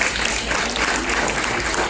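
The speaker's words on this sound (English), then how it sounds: "Let's give her a warm round of applause." Steady, dense applause from an audience at a school annual games and sports prize distribution ceremony, sustained at an even level for the whole stretch with no pauses.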